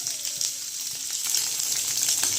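Kashmiri chili powder sizzling in hot oil in a pan while it is stirred, a steady close frying hiss with faint scraping throughout.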